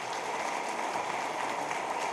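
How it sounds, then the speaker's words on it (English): Steady applause from a crowd, an even wash of clapping that holds at moderate loudness throughout. "Please give them a round of applause."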